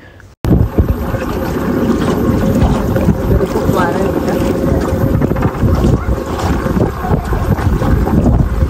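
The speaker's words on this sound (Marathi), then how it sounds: "प्रचंड वारा सुटला आता इथे" Strong wind roars steadily and loudly across open water during a boat tour near Giethoorn village in the Netherlands, buffeting the microphone after a short quiet start.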